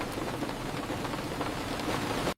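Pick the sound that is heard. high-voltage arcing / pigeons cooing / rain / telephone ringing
rain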